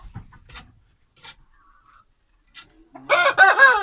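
Indian game (Aseel) rooster crowing close and loud near the end, after a few faint scattered clucks and rustles in a quiet pen.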